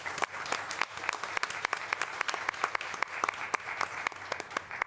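A modest room of people at a school board meeting claps for a staff member's 21 years of service, individual claps sharp and distinct in a soft, uneven round of applause.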